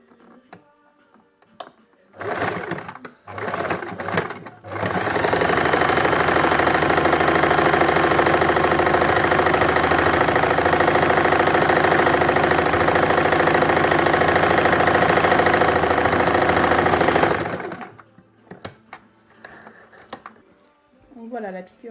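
A sewing machine stitches along the edge of a layered fabric face mask, running steadily for about twelve seconds with a loud, continuous motor hum, after brief starts and stops at the beginning and handling noises at the end.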